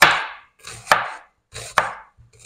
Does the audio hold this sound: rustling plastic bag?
no